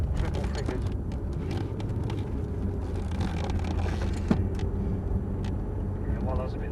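A supercar on a race track, its engine droning steadily and fairly loud from inside the cabin alongside road and wind rumble, while people talk over it.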